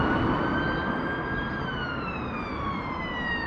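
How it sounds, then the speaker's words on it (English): An ambulance siren wails steadily along a road, loud and continuous, its tone gliding slowly downward as it passes, with traffic rumble beneath. "bloody ambulance coming, I don't want to be under that"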